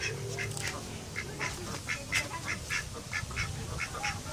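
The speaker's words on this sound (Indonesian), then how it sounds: "Dalam situ ada bebek." Ducks in a village pond give a run of repeated nasal quacks, about a dozen in an uneven rhythm, moderately close over a low outdoor background, with no talking over them.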